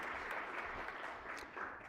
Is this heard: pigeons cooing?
no